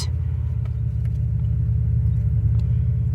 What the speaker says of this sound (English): If you hear that car